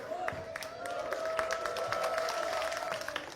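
Scattered clapping rises from a church congregation during a sermon, sparse sharp claps over a steady tonal hum in the room.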